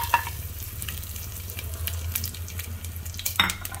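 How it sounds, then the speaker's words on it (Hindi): Whole spices sizzle and crackle in a spoonful of hot olive oil for a veggie pulao, a steady close frying hiss with a few sharper pops. "यहाँ पर मैंने ऑलिव ऑयल लिया है, गरम कर दिया है अच्छे से 1 चम्मच, और इसमें डालूंगी ये सारे साबुत मसाले।"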